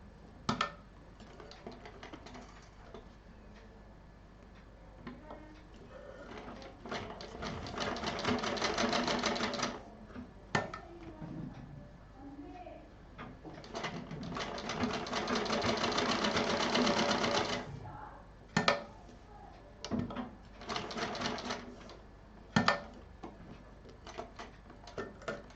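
A sewing machine runs in several long stretches and short bursts while stitching a storage pouch, its rapid ticking needle steady and close, with brief clicks and pauses between runs and no speech.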